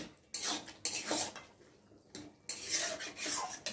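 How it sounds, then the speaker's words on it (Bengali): Rhythmic scraping strokes of a spoon stirring a mixed vegetable curry topped with coriander leaves in a metal pan. Four loud rasping sweeps, close up, separated by brief quiet gaps. "দিয়ে একটু ভালো করে নেড়ে দেবো"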